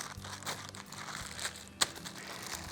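Plastic bag holding raw bacon being pressed and sealed, giving soft crinkling and rustling throughout with one sharp crackle near the end, close and fairly quiet.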